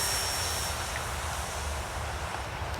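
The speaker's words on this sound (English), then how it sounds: "So let's throttle up. Here we go. Full power on 3S." Electric E-flite Turbo Timber Evolution RC plane running at full throttle on a 3S battery, a steady loud whirring motor and propeller drone held unbroken throughout, heard outdoors.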